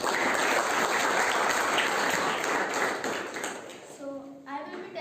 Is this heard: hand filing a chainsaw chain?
no